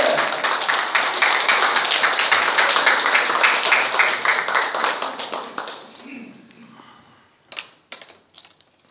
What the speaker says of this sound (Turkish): Büyük alkışlarla Hasan Odabaşı.